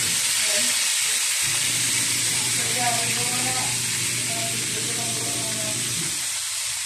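Milkfish (bangus) fries in a pan with a loud, continuous sizzle and hiss of hot oil. A voice talks over the frying in places.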